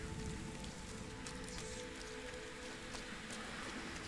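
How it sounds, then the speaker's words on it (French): Steady video game rain, from Rime, falling on a surface, a constant dense patter with no voices, holding at an even, moderate level throughout. "J'ai pas le droit de crier sous la pluie."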